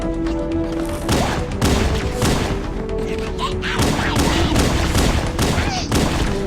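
Elites open fire in Halo: Combat Evolved, rapid bursts of energy-weapon shots and heavy thumping blasts overlapping in a loud, continuous barrage close by.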